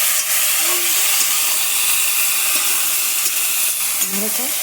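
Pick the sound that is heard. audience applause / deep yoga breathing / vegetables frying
vegetables frying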